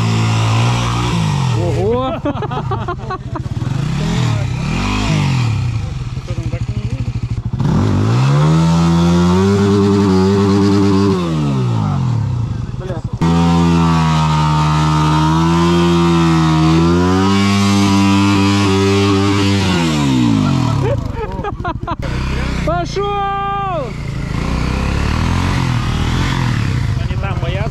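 A quad bike's engine revs hard on an enduro ride, its pitch climbing and falling again and again through surges of throttle, loud and close, with voices calling over it.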